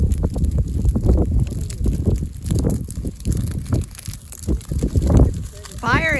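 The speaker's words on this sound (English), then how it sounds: "that wind is carrying it quickly. And that is one hot fire that you're not putting out." Strong gusting wind buffets the microphone beside a hot, fast-spreading fire in a field, a loud rumbling roar that surges and fades unevenly, with a voice talking over it.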